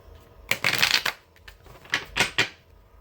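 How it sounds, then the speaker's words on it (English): A deck of tarot cards is shuffled in two bursts of crisp riffling clatter, the first longer, then a pause and a second shorter flurry, close and alone with no talking. "I'm going to do a quick shuffle here."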